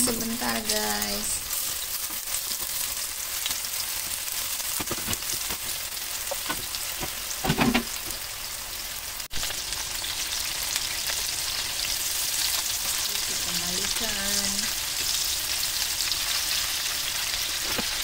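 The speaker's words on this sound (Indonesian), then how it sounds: "Kita goreng sebentar guys." Meatballs fry in a pan with a continuous close sizzle and crackle throughout, with brief bits of voice over it.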